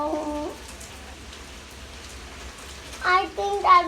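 Rain patters steadily as a soft, even hiss of falling drops outdoors. A voice speaks briefly at the start and again near the end.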